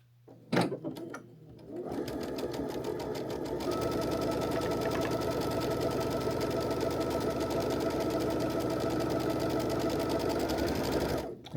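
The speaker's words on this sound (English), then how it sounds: "you want to take that and just sew all the way down on this side, flip it, and sew on the other side" A sewing machine runs steadily, stitching along the edges of quilt pieces for a charity quilt, with a short pause near the start before a long continuous buzz.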